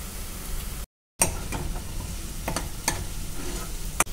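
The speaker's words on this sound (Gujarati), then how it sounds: "તો આપણે તેમાં લસણ આદુની જે પેસ્ટ તૈયાર કરેલી છે તે એડ કરી" Onions fry in a hot pan for chole bhature while garlic-ginger paste goes in: a steady, close sizzle with scattered stirring clicks and a brief dropout near the start.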